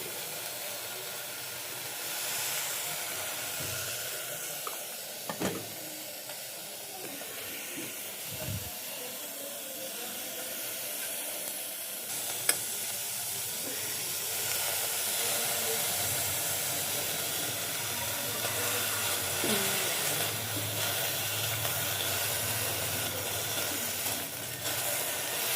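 Vegetables fry on an electric cooker for a salad, with a steady, continuous hiss and sizzle throughout, moderately quiet and close.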